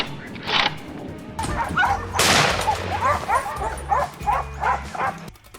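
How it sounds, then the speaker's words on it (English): Hunting dogs chasing wild boar, a pack giving repeated excited barks and yips at moderate distance, with a brief rustling burst partway through. "The pack of hunting dogs now truly showed their value."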